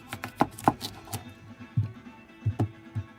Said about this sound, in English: Finishing up chopping a nice red tomato.